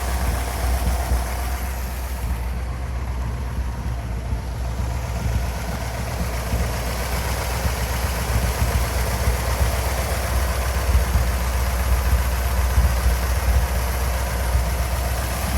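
A 1957 Ford Fairlane 500 hardtop's 312 T-Bird V8 with a 4-barrel carburetor idles steadily nearby, a smooth, even low rumble holding constant for the whole stretch with no voices over it.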